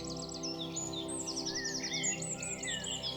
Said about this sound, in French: Peut-être pouvez-vous entendre la nature s'installer autour de vous, les oiseaux chanter